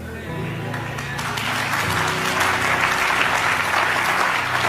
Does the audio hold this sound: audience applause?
yes